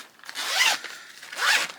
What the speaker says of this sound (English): Oh no, the zipper broke.